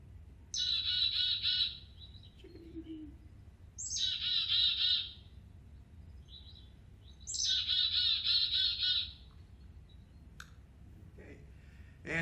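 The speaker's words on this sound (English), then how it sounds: "So we start with the chickadee." A chickadee sings three clear, bright phrases spaced a few seconds apart against a quiet background, fairly faint, with a short low call and a few soft clicks between.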